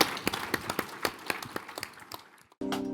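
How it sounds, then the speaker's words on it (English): A small audience claps for panelists after a discussion, scattered individual claps thinning out before a sudden cut to a different sound. "Please give them a round of applause"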